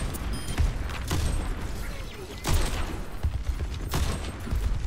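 Gunfire in the Overwatch 2 video game during a ranked match, with repeated sharp shots and bursts recurring across the clip, loud and close, mixed with other game effects.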